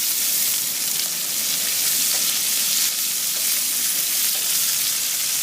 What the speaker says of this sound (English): the beautiful sound of browning pork ribs, chicken